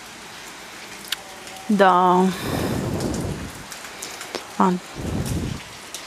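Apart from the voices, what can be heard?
heavy rain with thunder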